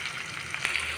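Spices crackle and sizzle in a small amount of hot oil for a bitter gourd dish, a steady close fry with a few louder pops, no talking.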